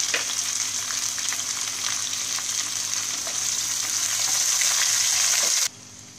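Onions sizzle in hot oil with browned ginger and cumin for a chicken lemon pepper dish, a loud, dense, steady frying hiss with faint stirring that drops off abruptly near the end.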